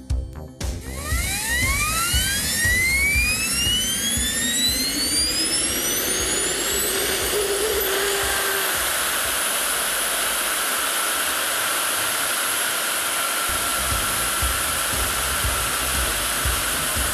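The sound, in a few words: model Vampire jet aircraft taking off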